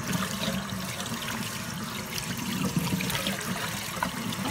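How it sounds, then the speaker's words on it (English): Water runs steadily from a tap to rinse out kitchen sinks, a continuous close hissing splash at even loudness with no talking. "Step three is to rinse your sinks well."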